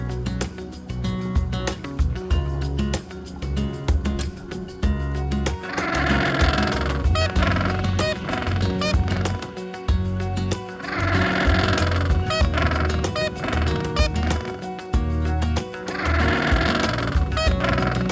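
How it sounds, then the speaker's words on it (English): A dolphin clicking in rapid, buzzing trains of clicks that rise and fall in bursts, fairly loud and continuous with no talking. "Dolphin."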